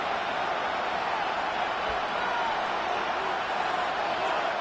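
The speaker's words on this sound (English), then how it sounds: "This Buffalo crowd letting them have it." Stadium crowd in Buffalo at a Bills vs Dolphins football game late in the fourth quarter, a dense, steady roar of thousands of fans holding loud and unbroken throughout with no pauses.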